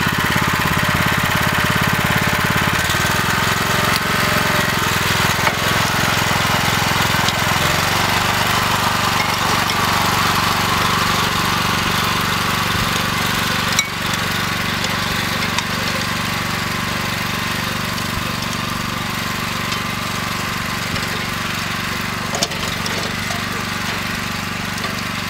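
A Berta rotary plow drives through garden soil, pushing dirt to the edge of a trench while making raised beds. Its mid-pitched engine drones steadily and close by, with a rough, knocking texture and small shifts in load.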